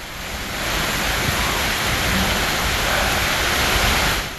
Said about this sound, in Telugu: పలు ప్రాంతాల్లో వర్షం పడుతోంది.